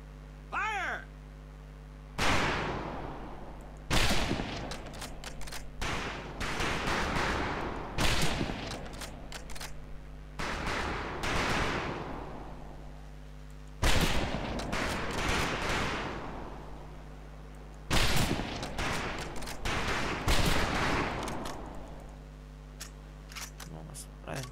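Rifle fire at a shooting range in Medal of Honor Pacific Assault, loud sharp reports recurring in irregular bursts over a steady ambient hum, with voices speaking between the volleys.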